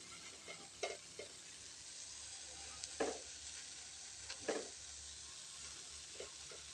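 Onion fritters made from fermented idli batter fry in a pan with a soft, continuous sizzle, punctuated by a few brief spatters and crackles; quiet and close, with no talking.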